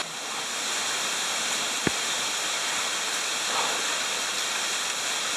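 Waterfall on a rural hike, a steady broadband rushing roar of falling water heard continuously and fairly close, with a single brief knock partway through.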